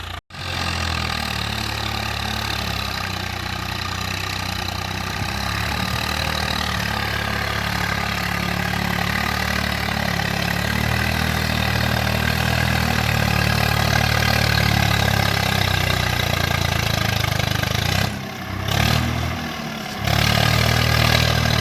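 A Swraj 855 FE tractor engine idles steadily in the field, a loud continuous low rumble that sags slightly as the rpm drops, with a brief dip near the end before the throb resumes.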